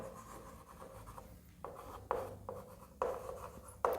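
Marker or chalk writing an example English grammar sentence on a board during a lesson, a steady scratchy stroke sound with several sharper taps and louder strokes near the end, heard alone with no talk.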